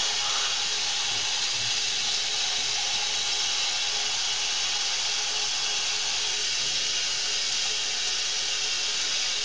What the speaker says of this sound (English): Let's wash off the mineral oil real quick.